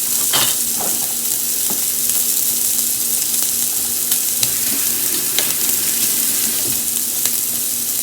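Italian sausage frying in a pot for a butternut squash and feta soup, a loud steady sizzle throughout with scattered clicks and spatula scrapes close by.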